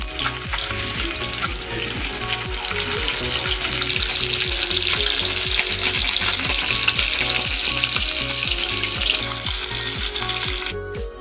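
Catla fish frying in oil with a loud, continuous close-up sizzle, underscored by a steady, regular low knocking that stops just before the end.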